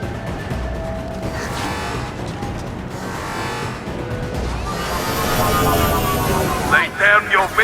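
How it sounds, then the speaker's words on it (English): A gunship hovers and flies in the video game Mass Effect 2, a steady engine roar building toward the end and ending in several sharp bursts, with game voices talking over it. "Gunship's back and with full shield."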